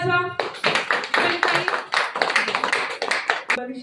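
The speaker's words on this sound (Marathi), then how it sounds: "ताईंसाठी टाळ्या वाजवा।" An audience claps in irregular bursts while a voice speaks over the start and through the clapping, the applause moderately loud and close.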